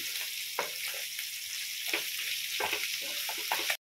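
Chicken pieces coated in chili powder fry in a pan, giving a steady close hiss with intermittent stirring scrapes and clinks before the sound cuts off abruptly.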